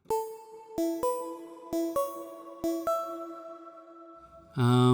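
Dry synth chords from the Apollo Verb Multi patch, with little reverb, struck in a slow sequence of sharp attacks that each sustain cleanly before a louder, fuller chord cuts in at the end.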